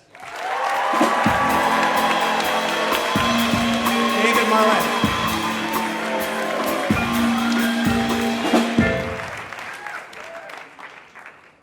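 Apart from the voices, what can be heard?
audience applause for David Marlett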